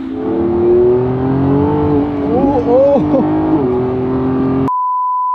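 A car driving fast around a challenging private race track, its engine droning loudly with pitch rising and falling through the bends, ending in an abrupt cut to a steady electronic tone.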